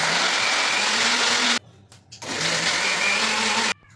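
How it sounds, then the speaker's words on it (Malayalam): A mixer grinder whirs loudly as it grinds ripe mango pieces with jaggery syrup, running in two strong bursts separated by a short pause and cutting off abruptly. "അതിൻ്റെ തോലൊക്കെ കളഞ്ഞ് വൃത്തിയാക്കി ചെറിയ കഷ്ണങ്ങളാക്കിയിട്ട് ശർക്കര പാനിയും കൂടെ ചേർത്ത് ഒന്ന് അരച്ചെടുക്"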